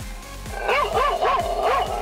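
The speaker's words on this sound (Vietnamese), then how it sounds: "cảm biến sẽ tiếp tục kích phát tiếng chó sủa để cảnh báo nha" A homemade motion-sensor alarm plays back recorded dog barking through a small speaker: a rapid run of about five sharp, repeated barks over a rhythmic low electronic pulsing.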